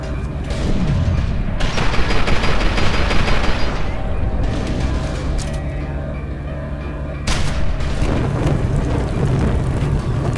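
A grenade blast in the shooter game Fear 2 lands as a loud boom amid a dense stretch of gunfire and rumbling explosions, with a second burst later in the clip.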